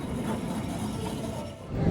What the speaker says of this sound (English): Number 28 tram.